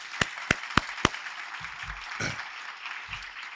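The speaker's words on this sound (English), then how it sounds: "Let's give all of our panelists a great round of applause." An audience at a community leadership roundtable gives the panelists a round of applause: four sharp, evenly spaced claps up close over a thinner wash of scattered clapping, with a few low knocks and shuffles.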